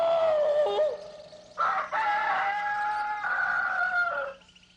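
A man imitates a rooster's cock-a-doodle-doo crow with his voice on a comedy TV show. One long crow in several rising and falling segments lasts about four seconds, then trails off.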